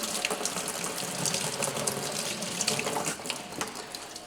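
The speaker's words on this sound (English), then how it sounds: "I did that water dunk just to show you that doing so will cause some of this surface bluing to flake off" Hot blued metal plunged into water to cool, producing a close, turbulent gush and bubbling hiss with sharp sputtering pops that continue across the whole stretch.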